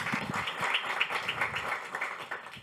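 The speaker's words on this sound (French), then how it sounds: "Sous vos applaudissements" An audience at a talk on innovation in France's overseas territories claps steadily, a dense patter of many hands at moderate distance that stays even throughout.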